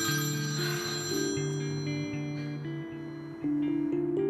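A telephone rings with a repeating melodic ringtone pattern, loud and close, a steady electronic tune with no talking.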